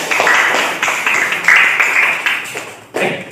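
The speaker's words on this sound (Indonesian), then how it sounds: "Kita beri tepuk tangan untuk kelompok 1." A classroom group claps for the first student team, a dense run of hand claps with several swells and a fresh burst near the end, fairly close and with no talk over it.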